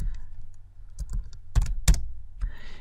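Computer keyboard typing in short irregular bursts of clicks, with a couple of louder, sharper keystrokes near the middle, close and clear over a quiet background.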